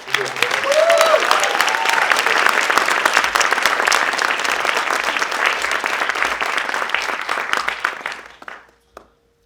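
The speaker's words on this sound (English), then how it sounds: "Let's give them a round of applause for" At a tech fellowship demo day, a large audience claps for alumni instructors. The applause is loud and sustained for about eight seconds, with a brief voice at the start, then fades out quickly.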